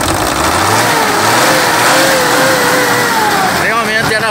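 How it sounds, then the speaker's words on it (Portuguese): A truck engine that had been short of oil cranks and then runs, rumbling and revving loudly and continuously close to the microphone, with speech mixed in. "Vou tentar funcionar o motor."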